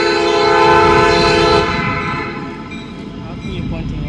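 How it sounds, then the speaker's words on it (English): A train passes close by, its loud sustained horn blaring for about a second and a half over heavy rumbling, then fading into continued rail noise as people talk excitedly nearby. "There's a train!"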